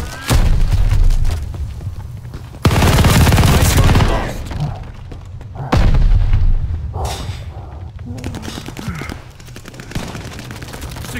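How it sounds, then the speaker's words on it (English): In the video game Call of Duty: Vanguard, loud booming grenade explosions erupt in several heavy bursts amid rattling gunfire, with dense crackling battle noise between the blasts. "Incoming grenade!"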